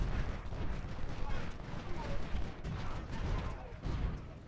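Artillery fire in the Ultimate General: Civil War battle at Crampton's Gap: a dense, continuous barrage of booming blasts and crackling gunfire that rumbles steadily throughout without letting up.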